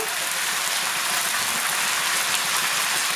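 Hot water pours steadily over ham in a continuous hissing splash, close by, with no voices.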